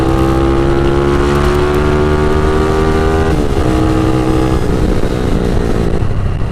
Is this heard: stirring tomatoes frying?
no